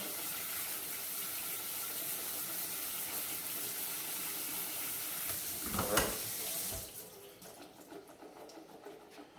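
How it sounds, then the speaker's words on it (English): Tap water runs steadily over canned beans being rinsed and shaken in a strainer for a chili recipe, a continuous broadband hiss that briefly surges before cutting off near the end. "I rinse the beans off real good"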